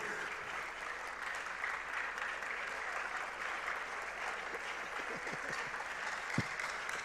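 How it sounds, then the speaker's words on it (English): Sustained crowd applause at a closing ceremony in Ghana, an even, moderately loud patter of many hands clapping throughout, with a few louder individual claps breaking through toward the end. "A round of applause. Let's do it to his honor."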